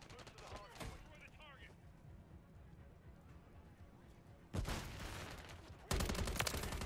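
Battle rifle gunfire in Modern Warfare III, a short burst of close shots near the start, then two dense loud stretches of rapid firing toward the end, with a brief voice early on over background game noise.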